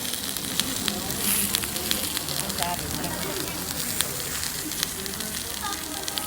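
Fish frying in a pan sizzles steadily at close range, with crackles and a few sharp pops as it is turned, and a voice speaks over it at times.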